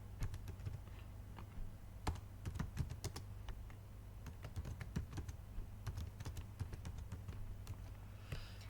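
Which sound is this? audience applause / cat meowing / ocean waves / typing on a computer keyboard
typing on a computer keyboard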